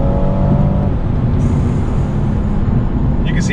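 A BMW M240i accelerates hard at high revs from inside the cabin, a steady loud engine drone and road roar. A rising whine enters midway.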